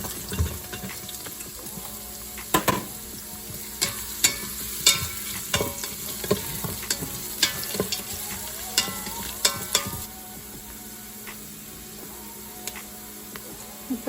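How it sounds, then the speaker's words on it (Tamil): Chopped onions fry in a pan with bay leaf, cardamom, cinnamon and cloves for spinach rice, with a steady soft sizzle broken by repeated scraping stirs of a spoon at an uneven rhythm, close up and with no talking. "இப்போ நம்ம சாப் பண்ணி வச்சுருக்க ஆனியன்ஸ் ஆட் பண்ணிக்கலாம்."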